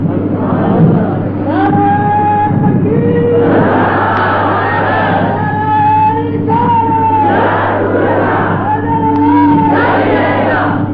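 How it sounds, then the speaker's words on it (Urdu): Large crowd chanting religious slogans in unison at a 1988 sermon in a mosque, loud, rhythmic call-and-response shouts rising in repeated waves that fill the whole stretch, with a steady low hum underneath. "نعرے آپ لوگوں نے بہت لگا لیے، اب نعرے نہ لگائیں"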